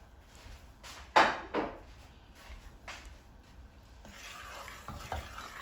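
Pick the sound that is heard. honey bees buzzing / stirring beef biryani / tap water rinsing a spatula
stirring beef biryani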